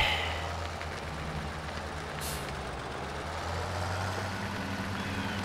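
A tractor engine in Farming Simulator 17 running steadily while reversing, a constant low droning hum with a brief hiss of air near the middle, heard alone without talk.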